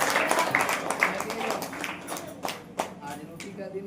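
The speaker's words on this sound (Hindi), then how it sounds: "जोर से ताली बजाकर परमेश्वर।" A church congregation at a Saturday prayer meeting claps loudly together, a dense burst of hand claps over voices for a few seconds.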